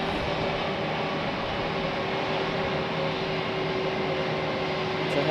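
Steady, continuous roar of jet engines as a JetBlue airliner is moved to its gate at Raleigh-Durham International Airport, with a constant mechanical hum and no pauses.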